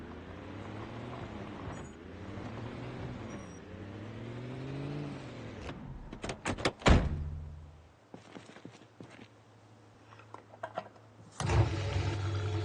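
In Project Zomboid, a car engine revs and runs with a rising, wavering drone, then a series of loud thunks and clatters follows before the motor settles into a steady low idle and surges again at the end.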